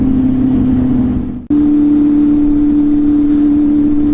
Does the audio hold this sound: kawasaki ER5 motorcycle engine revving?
yes